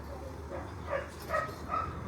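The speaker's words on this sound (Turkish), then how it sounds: "Köpek." A few short dog yips or barks, three brief bursts spaced about half a second apart, moderately distant over a steady low background hum.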